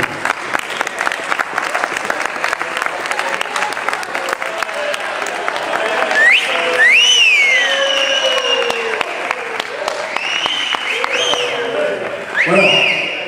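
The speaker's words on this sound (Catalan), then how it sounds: "Per favor, l'aplaudiment" A hall of diners at a festival brotherhood dinner in Alzira claps steadily in sustained applause as a troupe and its leader are introduced, dense and fairly loud, with cheers and voices rising over it.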